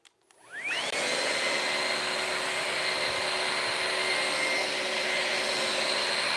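A Ryobi battery-operated vacuum cleaner starts up with a rising whine and then runs at a steady loud drone, close by, cleaning a pool room floor.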